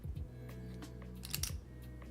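A small stack of poker chips shuffled by hand during an online poker session, giving quick clacking bursts near the start and again around the middle over a steady low background hum.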